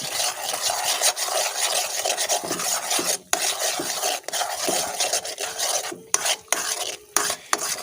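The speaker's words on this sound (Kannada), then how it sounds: "ಇದನ್ನು ನಾವು ಚೆನ್ನಾಗಿ ನೂಲು ಪಾಕ ಬರುವವರೆಗೆ ಪಾಕ ಮಾಡಿಕೊಳ್ಬೇಕು." Ginger candy syrup with black pepper powder is stirred steadily in a pan, a continuous close scraping and bubbling rasp with a few brief pauses, and no voices.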